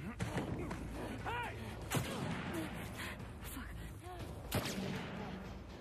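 Gunshots from a video game shown at Sony's E3 2018 conference, Ellie taking a shot, several sharp cracks spread irregularly over a busy mix of game sound and music, with people talking over them.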